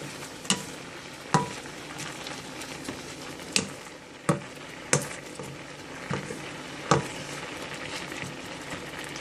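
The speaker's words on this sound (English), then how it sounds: "I'm going to give it a stir." Spoon stirring black-eyed beans (lobhiya) with haldi, masala and red chili in a pot, faint rhythmic clacks against the pot about once a second over a soft continuous sizzle, with no talk.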